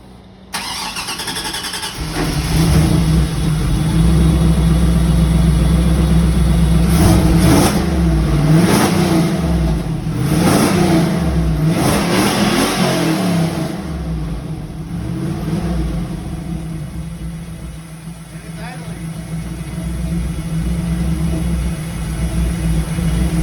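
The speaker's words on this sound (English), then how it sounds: "I was obviously excited that I had finally got my car running" A Pontiac Trans Am engine cranks and catches, then runs loud and close, revving up and down in a series of throttle blips before settling back toward a rough idle, with no talking.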